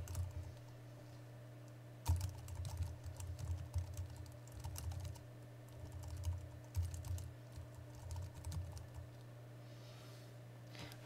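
Typing on a computer keyboard while entering a comment into project software, an irregular patter of quiet nearby keystrokes in short bursts with brief pauses, over a low steady hum.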